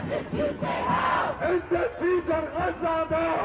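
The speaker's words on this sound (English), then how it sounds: "So here, huge crowd gathered outside of the venue." A large Free Palestine protest crowd gathered outside a venue chants loudly in rhythmic, repeated call-and-response bursts, many voices shouting together in regular pulses.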